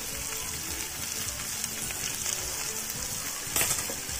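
Chopped onion and ginger fry in a pan while being stirred toward browning for an amla curry, giving a steady, close, moderately loud sizzle throughout with a brief sharper burst near the end and no talking.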